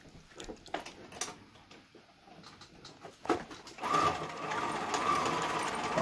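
A sewing machine stitches along the bottom of two bags, starting after a few seconds of small handling clicks and rustles, then running as a steady close mechanical whir to the end.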